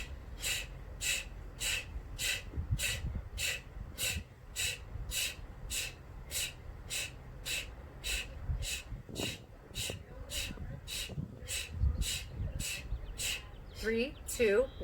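In a hot yoga class, a breathing exercise produces a long run of sharp, forceful breaths. They come at an even, quick pace, each one a short hissing burst, and close with a few longer, rougher breaths.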